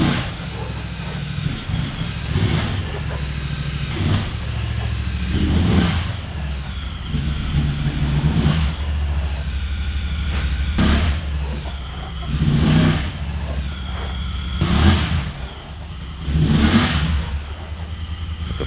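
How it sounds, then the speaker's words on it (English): A Honda Talon 1000R side-by-side fitted with dual-rate springs is driven back and forth, its engine revving up and easing off in repeated surges. A low mechanical rumble holds steady beneath the swells. "You must drive the car around the block, or at least back and forth 4 to 5 times, hitting the brakes and the gas to settle the suspension"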